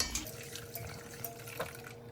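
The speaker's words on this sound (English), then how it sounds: "Go ahead and do my second pass of straining." Horchata strained through two stacked strainers, a steady close trickle and drip of liquid pouring and splashing for a couple of seconds, fairly quiet and without talk.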